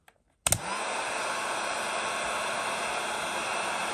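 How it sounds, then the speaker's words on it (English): A heat gun clicks on after a moment of quiet and settles into a steady, loud blowing hiss as it warms a wire, with no talking. "So I have myself a heat gun."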